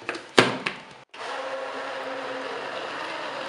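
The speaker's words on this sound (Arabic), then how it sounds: "كنغطيو الخلاط ديالنا وكنطحنوا" A couple of short clunks, then a blender switches on and grinds apple and milk juice steadily and loudly until the end.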